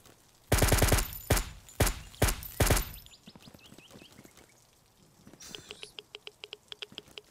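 Several heavy bursts of rapid gunfire in ZERO Sievert in quick succession, then lighter, evenly spaced shots ticking off; game-like weapon sounds, no voices.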